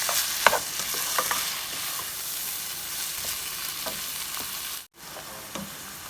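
Shrimp fry in a discada with a steady, bright sizzle, and a few soft stirring scrapes rise over it; the sound cuts out briefly near the end.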